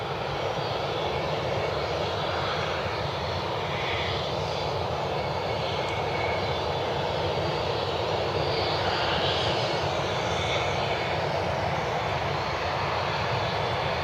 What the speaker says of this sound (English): Got a United 737 Max taking the runway.